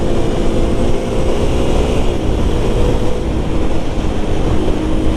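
A Kawasaki KLX300SM motorcycle rides at about 46 mph along a tight, twisty road, heard as a steady, loud engine drone mixed with rushing wind that holds constant throughout.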